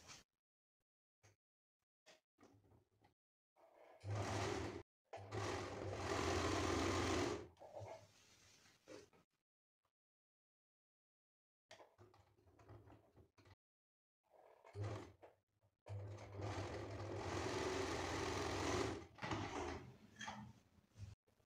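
A sewing machine runs in two sustained bursts, stitching together the front and back shoulder seam of a double-layer umbrella top, with short quiet pauses and faint handling clicks between runs.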